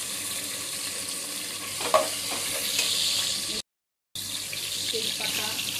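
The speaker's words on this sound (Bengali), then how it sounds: "এবার টমেটো কুচিগুলো দিয়ে দেবো।" Chopped tomatoes added to fried onions in a pan, producing a steady loud hiss and sizzle with a brief stirring clatter, interrupted once by a short dropout before the frying continues.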